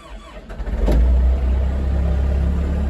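A car engine cranks briefly, catches, and fires up into a steady, loud idle rumble close by.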